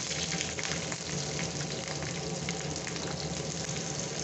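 Sliced green chilies frying in two spoons of hot oil in a home kitchen pan, a steady, close crackling sizzle without pause.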